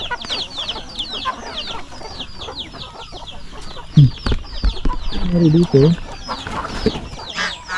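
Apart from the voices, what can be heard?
chickens and turkeys clucking on a farm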